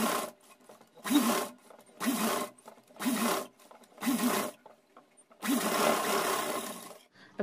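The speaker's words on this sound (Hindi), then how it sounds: "यहां से लेकर के गोलाई में ये सिलाई लगा करके" A sewing machine stitches a small outfit for a Laddu Gopal idol, running in about six short, even bursts separated by brief pauses, close and clear with no talking.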